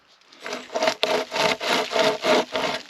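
A sharp chain hand saw cuts through wood in about seven steady back-and-forth strokes, each a close, rasping scrape with brief pauses between pulls.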